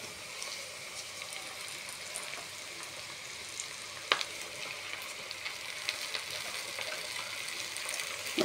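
Kondapindi greens being added to a hot frying pan, giving a soft, steady sizzle and crackle with one sharp tap partway through, close and quiet.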